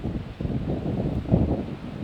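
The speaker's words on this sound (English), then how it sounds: "The wind was gusting at Pleasant Park Mobile Home Court Monday." Wind gusts at a mobile home park in Montana, a steady low roar rumbling against the microphone with a slight swell near the end. No voices are heard.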